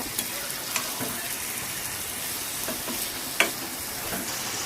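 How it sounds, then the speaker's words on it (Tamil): Chicken liver is stirred and sautéed in a pan with spices, giving a soft, continuous sizzle with occasional scrapes and a sharp clink of a spoon against the pan near the middle. "ஈரல் தூக்கி அதில் போட்டுருங்க உள்ள. அதுக்கப்புறம் நல்லா கிண்டி விடுங்க."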